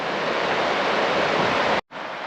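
The River Ure rushes in full flood near Aysgarth Falls, a loud, continuous roar of churning water that cuts out briefly near the end before resuming.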